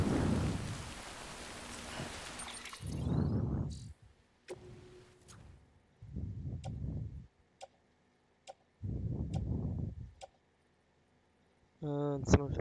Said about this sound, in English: I don't know how to get out of the rain.